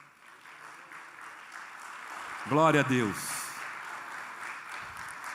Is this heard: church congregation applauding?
yes